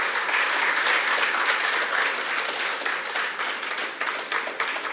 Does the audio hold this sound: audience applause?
yes